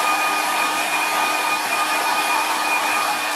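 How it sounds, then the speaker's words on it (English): A hairdryer blows steadily to dry watercolour paint on paper, a loud, close, continuous whooshing roar with a faint whine and no voices. "you can stop it with the hairdryer"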